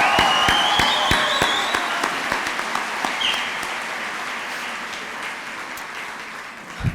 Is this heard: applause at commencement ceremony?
yes